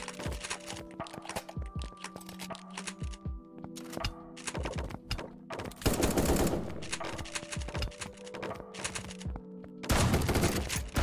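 Pump shotgun shots in a competitive 1v1.lol duo match: rapid cracking gunfire and repeated sharp shots, close and loud, with dense volleys and short gaps and no talking.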